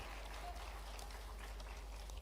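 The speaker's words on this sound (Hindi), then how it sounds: "एक बार हम सभी की ओर से जोरदार तालियां माननीय मुख्यमंत्री महोदय के अभिनंदन में" An audience applauds Chief Minister Mohan Yadav at a World Health Day event, a faint, even wash of clapping that holds steady for about two seconds.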